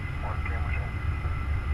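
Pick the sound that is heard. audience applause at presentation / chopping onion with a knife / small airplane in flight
small airplane in flight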